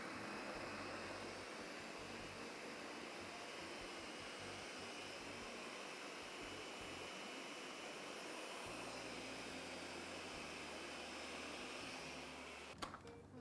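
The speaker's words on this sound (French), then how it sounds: "Et on part la machine." Kitchen machine whirring steadily as it whips a dessert to a mousse-like consistency, a loud continuous broadband motor drone lasting throughout with no talk.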